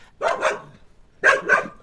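A dog barks in two quick double bursts, close and loud, separated by a short silence, outdoors near a seaside home in Odesa.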